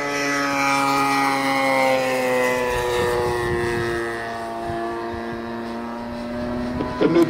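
A GeeBee racing aircraft's engine roars steadily as it flies past over the runway, its droning tone sliding downward in pitch, loud and close throughout with no talk.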